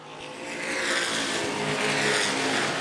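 ABC stock cars race around Angola Motorsport Speedway as the leaders flash past lapped traffic, their engines a loud, sustained roar that swells and holds steady throughout.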